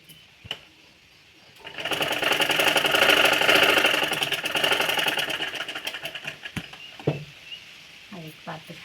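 A sewing machine stitches tucks on a dress made from an old sari, running steadily and close for about five seconds, with quieter handling noises and faint speech before and after.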